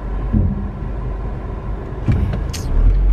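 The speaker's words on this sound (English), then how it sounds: "I'm sure I'm there in traffic right now" Road traffic in Jamaica, cars passing close by with a continuous low engine rumble, a brief rising whoosh near the middle, a short high squeal like brakes, then a heavier vehicle surge at the end.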